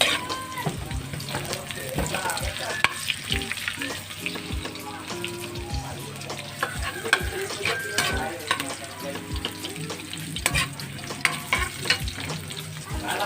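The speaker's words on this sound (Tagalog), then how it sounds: "prito-prito po muna natin yung manok" Chicken pieces and garlic fry steadily in a hot home-kitchen pan, with constant close sizzling, scraping stirs and occasional clinks and splashes of water nearby.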